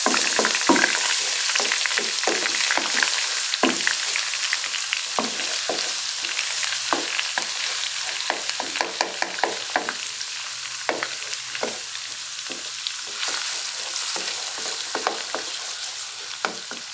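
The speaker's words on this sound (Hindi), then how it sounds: "लहसुन, कुटा हुआ लहसुन ये डाल देंगे। और इसको हल्का सा भून लेंगे।" Crushed garlic fries on low heat in a pan for a chicken nihari, with a steady close sizzle and frequent stirring scrapes and crackles and no talking.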